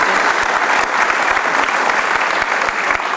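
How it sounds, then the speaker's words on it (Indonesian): A studio audience at a television talk show bursts into loud, sustained applause, thick continuous clapping from many hands close to the microphones, with no voices over it. "kita kasih tepuk tangan"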